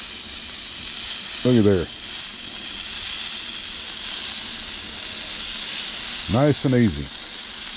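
Salmon sears skin side down in a pan with a steady, close sizzle and hiss throughout, while someone speaks briefly twice over it.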